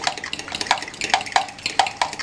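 A lumpy Brusho thickener mixture being stirred hard by hand gives close, irregular scraping and clinking strokes that come several times a second, with no voices.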